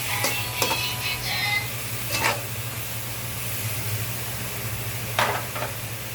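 Ginataang kamansi, breadfruit in coconut milk, is stirred in a cooking pan over a steady low simmering hiss, with a few soft scraping strokes of the spoon near the start and end. The sound is close and no one speaks.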